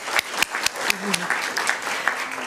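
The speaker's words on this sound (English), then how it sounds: "let's give all the families a round of applause." A few people at an education awards ceremony clap in a sparse, uneven rhythm, with individual sharp claps standing out and a voice murmuring briefly underneath.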